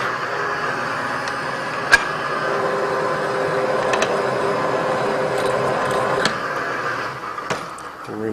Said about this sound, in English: We'll ream the pipe out.